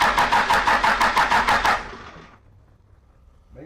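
A Cummins diesel swapped into a Jeep Wagoneer cranks in a rapid, even rhythm of about eight loud strokes for nearly two seconds. It then stops, leaving a quiet, low rumble.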